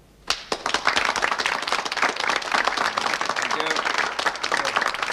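An audience applauds a speaker at a 1960s political election meeting: dense clapping starts abruptly after a quiet moment, then stays loud and continuous with a few voices over it.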